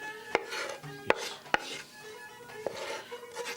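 Fresh basil, parsley and mint are chopped with a knife on a board, four crisp, separate knocks at uneven spacing with soft scraping between them, close and clear.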